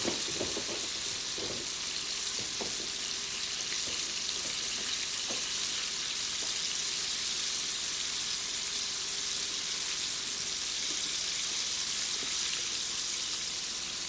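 Home-fried chicken sizzles steadily in hot oil in a pan, a dense continuous crackling hiss with occasional small pops, close and even throughout with no voices.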